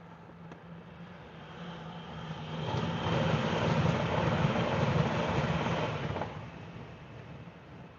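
A TransPennine Class 397 electric train draws closer, bound for Manchester Airport. Its broad whooshing roar swells from a steady hum, holds loud for a few seconds as it passes near, then fades, with no talk.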